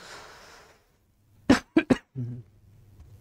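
Three sharp coughs in quick succession, close and loud, followed by a short throat-clearing grunt, with a faint murmur before them.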